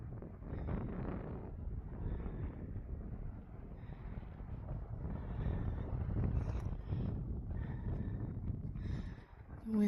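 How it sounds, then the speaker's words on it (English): Gusty wind rumbles and buffets against the microphone on a mountain trail near a fire lookout outside McCall, Idaho, a loud, steady roar that swells toward the end, with no voices over it. "The wind's starting to kick up, so it may be noisy."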